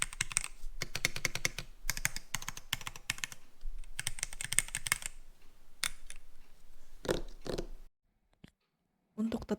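Fast, steady typing on a heavy keyboard with a titanium base, a dense run of crisp close key clicks with brief pauses, ending in a moment of near silence and a final faint thump.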